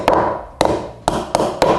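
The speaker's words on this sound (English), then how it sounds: "tap them home using a hammer" Five sharp hammer taps driving staples into HardiePlank cladding, irregularly spaced, each a crisp knock with a short ring, close by with no talking.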